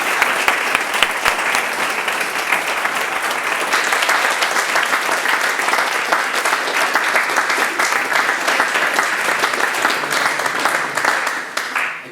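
An audience gives a loud, sustained round of applause for a priest, many hands clapping densely and evenly for about twelve seconds before tapering at the end.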